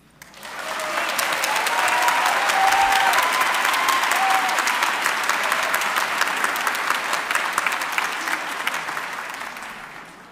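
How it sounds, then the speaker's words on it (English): A large audience applauds steadily for about ten seconds at a Mississippi United Methodist Conference celebration, dense clapping swelling in quickly, holding loud and even, then tapering at the end. "let's give all of our participants another round of applause for the hard work"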